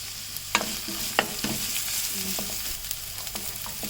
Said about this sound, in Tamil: அதில் ஒரு பெரிய வெங்காயத்தை கட் பண்ணி சேர்த்துக்கிறேன்